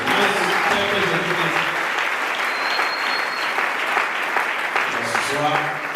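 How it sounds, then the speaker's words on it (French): A church congregation in Franceville applauds for Jesus during a service with loud, sustained clapping that fills the room for several seconds. Voices can be heard speaking and calling out underneath the applause. "Acclamez très fort pour Jésus"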